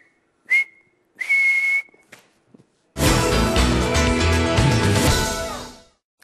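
A person imitates a referee's triple final whistle at the end of a football match, giving two short shrill whistle blasts, after which loud music takes over.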